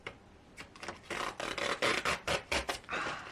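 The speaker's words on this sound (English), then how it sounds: "Take the double film protection off the glass." Protective film peels off the glass of a picture frame in a run of short, close crackling rips, one after another, with no voices.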